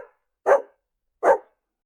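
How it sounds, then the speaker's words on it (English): Two short, loud barks from a single dog, spaced about a second apart and heard alone against silence, as in a children's animal-sounds lesson. "Dog says woof woof."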